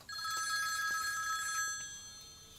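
Telephone bell rings in a rapid trilling burst lasting over a second, moderately loud indoors, then fades out into faint room noise with no talking.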